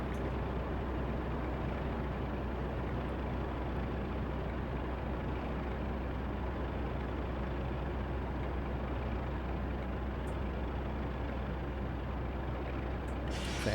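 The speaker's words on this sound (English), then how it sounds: "I'll start braking now." A Class 35 diesel train braking on the Riviera Line in the 1950s in Train Simulator 2020, a long unbroken roar of brakes and heavy engine rumble at steady loudness, no voices.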